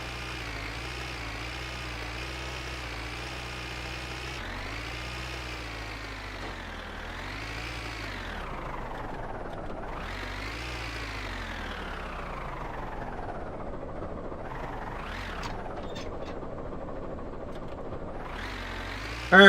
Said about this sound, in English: Tractor noises ASMR.